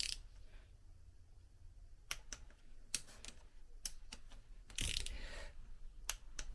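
A wrench clicks a few times while tightening engine crankcase parts, giving sparse, sharp, quiet clicks over a near-silent workshop background.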